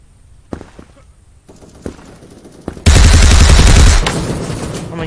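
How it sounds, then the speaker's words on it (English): Submachine gun fire in the video game Krunker, with a few isolated shots followed by a loud sustained burst of rapid automatic fire that then tails off into quieter shooting. "Need the submachine gun again."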